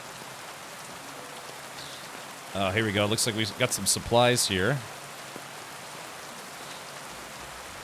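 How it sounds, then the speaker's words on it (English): Steady rain falling in the video game Kingdom Come: Deliverance 2, a constant hiss across the whole stretch, with someone talking over it briefly midway. "the rain is actually good because the rain will help cover cover the sound of my footsteps"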